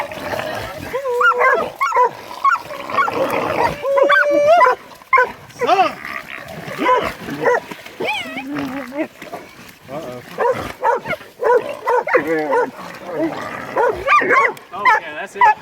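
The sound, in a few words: hunting dogs barking at a hog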